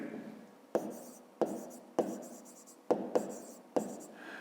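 Handwriting for a fifth-grade maths exercise, with six or seven sharp pen taps and strokes in an even rhythm, close and clear, each followed by a soft scratching tail.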